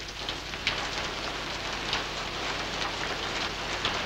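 Steady rain falls around swamps and paddy fields on Leyte Island, a dense continuous patter with a few louder drops, and no talk.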